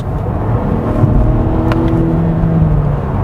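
A 2021 Volvo S90 B5 accelerates under kickdown, heard from inside the cabin as a steady, fairly loud engine and road roar that builds slightly, with no talking.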